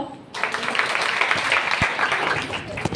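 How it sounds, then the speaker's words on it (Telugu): A church congregation breaking into a burst of clapping, dense and steady across the room, with voices mixed in. "చప్పట్లు కొడదామా?"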